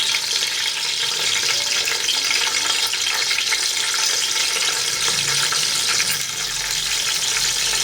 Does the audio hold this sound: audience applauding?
no